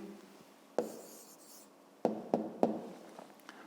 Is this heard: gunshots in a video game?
no